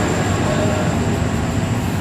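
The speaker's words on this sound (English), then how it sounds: "Endeavour set N2 now departing platform number 2, Talawa service." An Endeavour passenger train pulls away from a platform at East Maitland station with a steady, continuous rumble of engine and wheels that holds at an even loudness the whole time.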